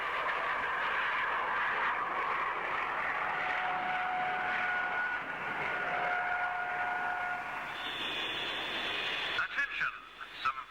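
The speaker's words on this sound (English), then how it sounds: "Stability is demonstrated by a flyover with a feathered starboard dart engine." A Japanese 60-seat YS-11A turboprop flies past at an air show with its starboard Dart engine feathered, giving a steady, sustained drone with tonal whine that lasts throughout and ends in a few sharper rumbles near the close.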